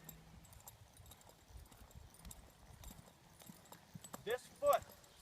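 A horse's hooves clop in an uneven, soft rhythm on the ground of a round pen during a ride, fairly faint and close, with a few louder sharp sounds near the end.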